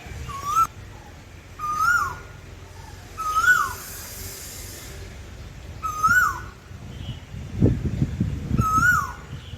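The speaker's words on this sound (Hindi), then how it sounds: "देखिए कितनी प्यारी आवाज़ निकल रही है कोयल की।" An Asian koel calls repeatedly in a village during mango season, each rising note coming about every two seconds, clear and moderately near, with some low rustling toward the end.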